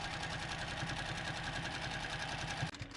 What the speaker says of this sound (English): And then just continue sewing on your binding as you were.